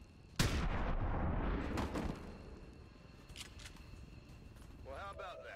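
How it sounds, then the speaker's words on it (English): Loud shotgun blast followed by a grenade-style explosion with rumbling decay in the turn-based strategy game XCOM 2, Long War of the Chosen mod, then quieter ambient game sounds and brief chirps. "Shotgun plus grenades."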